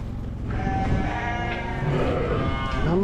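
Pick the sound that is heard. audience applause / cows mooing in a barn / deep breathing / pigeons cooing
cows mooing in a barn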